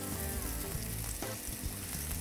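Sausages for a winter barbecue sizzle and fry steadily in a skillet set over the grill, a continuous close crackle with a few soft stirring knocks and no voices.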